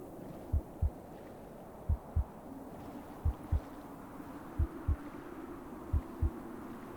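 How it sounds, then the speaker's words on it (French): A heartbeat effect from a Minecraft horror survival game, a steady lub-dub thumping in regular pairs that repeats about every second and a half over a low ambient hum. "c'est giga pesant ce truc de battement de cœur."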